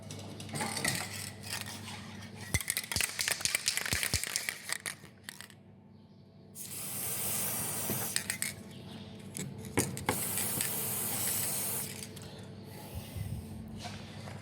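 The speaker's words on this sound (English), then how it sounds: "So we're going to give them a good old squirt up." Spray cleaner is squirted onto corroded clips and fittings behind the front bumper of a Hyundai i30 during an AC condenser change, close hissing bursts mixed with clicks and handling noises of the parts.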